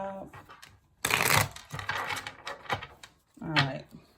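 Tarot cards being shuffled, delivered as quick papery riffles and soft slaps in short bursts with pauses between them, with a voice talking quietly in the gaps.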